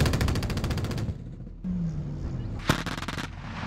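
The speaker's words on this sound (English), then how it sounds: "the 30mm XM914 cannon finishes the job" A rapid burst of heavy fire from a 30mm XM914 cannon on a mobile anti-drone system, sharp repeated booms in quick succession, then a pause and a single loud report over a low rumble.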